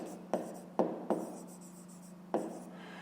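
A pen writing on paper during a fifth-grade math exercise, with quiet scratching and four distinct sharp taps as strokes begin, close and faint against a low steady hum.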